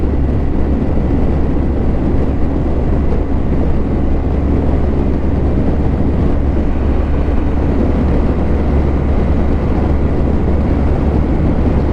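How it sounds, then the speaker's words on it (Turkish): Strong wind roars steadily against the microphone near the 1915 Çanakkale Bridge in Turkey, a continuous low rumbling buffet with no pauses or voices. "Acayip eser buralar."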